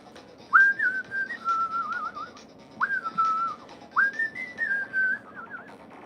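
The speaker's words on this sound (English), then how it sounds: "Sorry, I shouldn't be whistling." A man whistles a short repeating tune in three gliding phrases, fairly close and clear, over a quiet room background with no talking.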